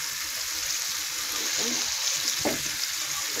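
Fish curry being stirred in a pan, a dense steady sizzle with a couple of brief scraping strokes from the spoon, close and even throughout.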